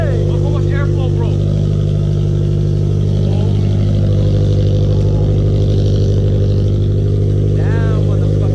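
A Subaru BRZ fitted with a Tomei header, front pipe and exhaust idles loudly with a deep steady drone that rises in a rev, while people talk over it close by.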